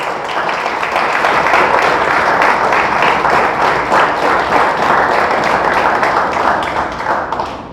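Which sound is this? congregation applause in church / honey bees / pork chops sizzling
congregation applause in church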